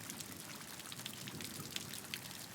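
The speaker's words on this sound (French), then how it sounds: "reviens à la sensation de la pluie. Chaque goutte comme un rythme doux" Gentle rain falls in a soft, steady hiss, with faint individual drops pattering across a quiet, even wash of sound and no voices.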